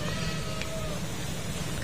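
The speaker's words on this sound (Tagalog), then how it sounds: "So, ayan, meron ako nakita isang kuting dito." A kitten meows indoors in a home, a thin high cry near the start followed by a longer drawn-out meow, close but fairly soft over a steady low background hum.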